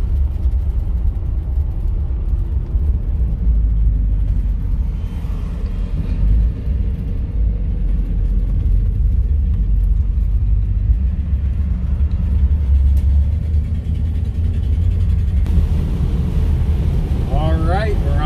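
A 1959 Cadillac engine cruising up a slow climb on the road toward Las Vegas gives a loud, steady low drone mixed with wind buffeting, unbroken throughout.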